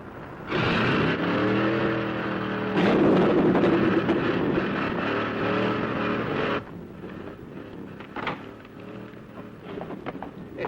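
A 1950s hot rod engine roars loudly and close, holding a steady, throaty drone with a surge and rise in pitch around the third second, then cutting off abruptly and leaving quieter rumbling and scattered clatter.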